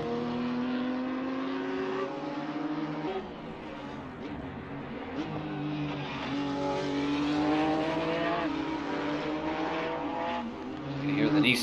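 A race car in Assetto Corsa, driven hard at Zandvoort, its engine revving high and rising through gears with sharp shift breaks and a brief tire squeal near the end, under steady commentary talk.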